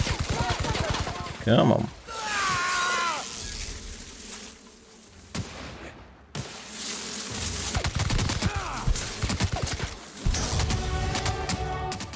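Rapid gunfire in The Outer Worlds video game, bursts of shots crackling over a busy game soundscape with insect-like buzzing, while someone talks intermittently.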